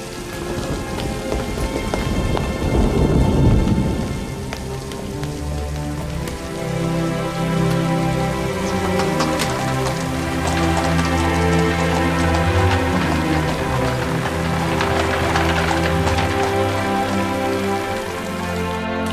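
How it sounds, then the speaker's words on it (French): Steady rain falls with rumbles of thunder in a Paris scene from a 1998 costume drama, the wash of rain running continuously beneath an orchestral music score for the whole stretch. "Comme il pleut."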